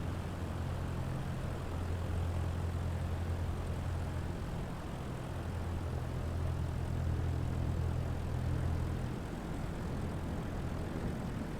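Airplane on final approach to landing in Microsoft Flight Simulator 2020, a steady, even engine drone humming throughout without voices.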